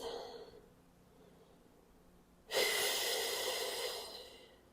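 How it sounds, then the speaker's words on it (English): One deep breath during a Pilates shell stretch: a quiet, faint inhale at first, then a loud, close, airy exhale lasting about two seconds. "Take a nice big deep breath."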